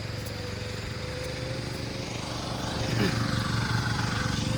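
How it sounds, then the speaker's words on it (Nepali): A tractor ploughs a rice field, its engine droning steadily at mid distance and growing slightly louder partway through, with faint background noise. "अब ट्र्याक्टरले जोत्ने क्रम भइरह है"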